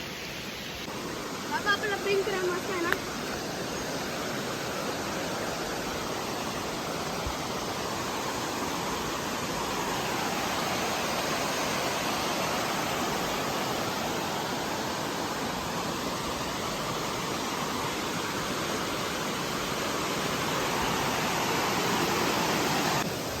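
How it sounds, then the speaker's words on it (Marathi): Steady, broad rushing roar of Nachne waterfall in Ratnagiri, close and continuous, with a few brief faint sounds early on. "मित्रांनो आपण आता आलेलो आहे धबधब्यावर."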